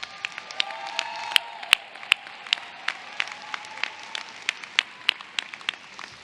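A commencement crowd applauds as veteran and active-duty graduates stand, sparse clapping with sharp individual claps over a soft, distant hall wash.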